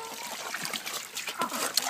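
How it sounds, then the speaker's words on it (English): Water pours and splashes into a dog's water bowl in a short, uneven burst of trickling and splattering, with a few brief clinks, close and moderately quiet. "fill up the dog's water"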